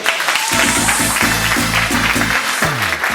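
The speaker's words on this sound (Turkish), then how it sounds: "Gruplamaydan Aydoğan'a alkışlar istiyorum." Audience applause at a stage event in Frankfurt, a continuous dense clapping wash under loud music with a steady bass rhythm throughout.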